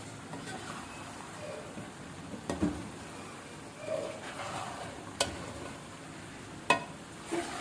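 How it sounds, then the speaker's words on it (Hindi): Vegetables tossed into a hot pan and stirred while cooking Chinese biryani: a soft continuous sizzle broken by several scattered scrapes and taps of a spoon against the pan, close and fairly quiet, with no talking. "अब मैं इसमें बाकी की सब्ज़ी डालती हूँ।"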